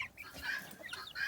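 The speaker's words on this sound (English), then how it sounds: "we have got our meat chickens and a couple of Isa Browns there as well" Meat chickens in a chick pen give soft, faint clucks and small chirps, a few close calls overlapping against a quiet background.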